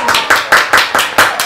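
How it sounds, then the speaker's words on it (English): Applause in a radio studio from a small group, about six loud, sharp bursts of clapping in a steady rhythm, close to the microphone. "how about we just give them a round of applause for tuning in every week"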